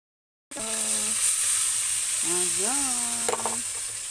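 Sardines and pechay sauté in a hot pan with a loud, steady sizzle and hiss. It starts abruptly after a short silence and a voice talks faintly under the frying.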